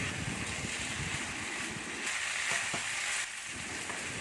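Upma is stirred in a hot pan, making a steady sizzling scrape with soft, repeated spatula strokes, close and fairly loud throughout with no talking.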